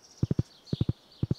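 Three sets of triple hoof clops from a horse in Stardew Valley, crisp and close, each burst a quick even trot-like rhythm separated by short pauses, with faint game music above.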